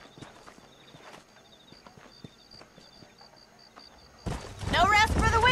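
Horse hooves clip-clop in the Red Dead Redemption video game, a quiet, steady walking rhythm of hoofbeats with faint game tones, until loud speech takes over near the end.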